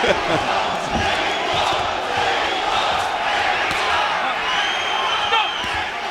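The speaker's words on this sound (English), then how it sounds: "They're cheering Mexico." Boxing arena crowd cheering for Mexico in support of fighter Jose Luis Ramirez, a broad, rolling roar of many voices heard from a distance, steady throughout with swells of chanting.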